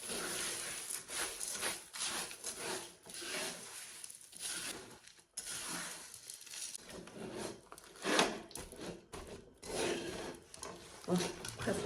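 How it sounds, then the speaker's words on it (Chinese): Blanched rice being stirred and tossed quickly in a hot wok for a crispy sweet rice dessert, a continuous close scraping and rustling of grains against the pan with uneven bursts, no talk over it. "把我们焯好的米给它倒进去，快速的给它翻拌均匀。"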